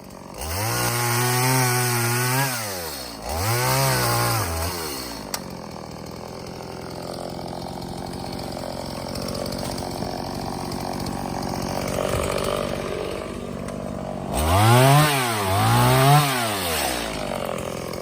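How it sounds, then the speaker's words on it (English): A chainsaw revs up in rising and falling bursts, then settles into a long, steady grinding cut through a large cherry tree trunk before revving hard again. "It helps when you're starting a chainsaw if the saw is actually turned on."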